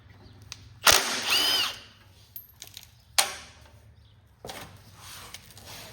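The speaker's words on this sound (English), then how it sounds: "We're going to use the impact on this one in the back." Impact wrench on the 3/8 motor bolts of a Cub Cadet 107 narrow-frame garden tractor, giving two or three loud, short rattling bursts with quiet gaps between them.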